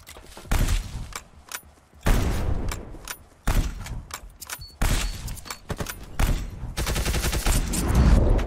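Bursts of gunfire from the top-down battle royale game surviv.io, loud and close, with several separate volleys and a denser rapid string of shots near the end, no talk.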